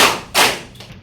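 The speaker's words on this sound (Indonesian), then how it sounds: "Tepuk satu, Tepuk dua, tepuk tiga" Children clap their hands during a counting game, a couple of sharp, close claps in quick succession with a softer one trailing after.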